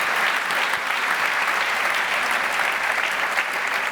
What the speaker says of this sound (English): Can we have a round of applause for our guests here?